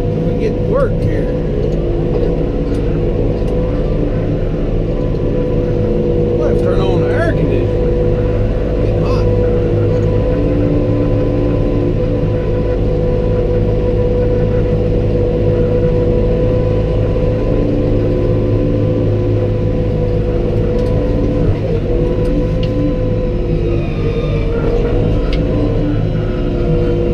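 A New Holland T5.120 tractor engine runs in four-wheel drive while bush hogging, a continuous loud diesel drone with minor load changes that holds throughout the long stretch.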